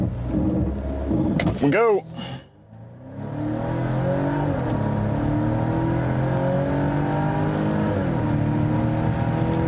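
A 2023 Volvo V60 Cross Country launches from a brake-torque stop. A rising engine whine sweeps up and cuts as it shifts, then a steady, loud drone continues with another shift later. Someone speaks briefly at the start.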